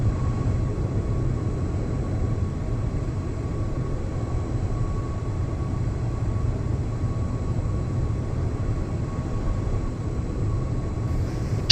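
Aerostar twin-engine aircraft in MSFS 2024 at full throttle on the runway, a steady loud droning engine roar with a constant whine, unchanging throughout and no voices.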